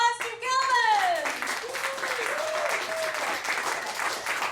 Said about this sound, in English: let's give a warm welcome applause to Kelvin!